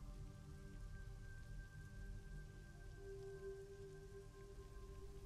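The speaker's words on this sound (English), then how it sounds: "the score gently fades out to leave us this gap of just rainfall that makes it feel all too real" Steady rainfall in a quiet film scene, a soft even patter on surfaces that continues without pause, faint and without music or voices.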